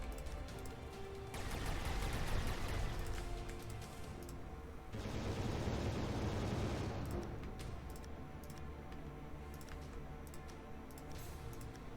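Spaceship cannon fire from the space combat game Final Theory, with Royal Navy ships battling corvettes: two loud bursts of dense, rattling gunfire, each lasting a few seconds, over a steady engine-like hum, with no talk.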